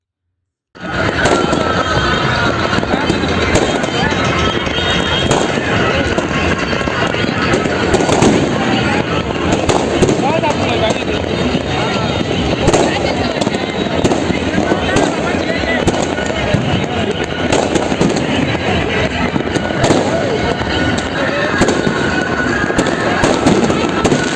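Fireworks and firecrackers closing a kite festival in Nashik crackle and burst loudly and continuously for the whole stretch, dense overlapping bangs with crowd voices mixed in.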